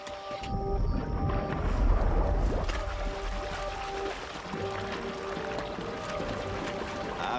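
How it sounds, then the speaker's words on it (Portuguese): River water churned by masses of jumping fish, bubbling and splashing continuously like a boil, with a boat motor humming underneath and a faint steady tone running through. "A água está cheia de peixes e o som que ouvimos dá a impressão de que a água está fervendo."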